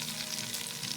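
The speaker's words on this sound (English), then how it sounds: "Once the oil is hot, add your onion, add your stock cubes." Onion and stock cubes frying in hot oil give a steady, dense sizzle, close and constant, with no voices.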